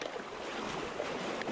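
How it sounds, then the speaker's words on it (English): Rushing water of a raging creek in southern Ohio during a thigh-deep wading crossing over a rocky bottom: a steady broadband roar, close and continuous, with no voice. "This was without a doubt the worst water crossing I've ever experienced."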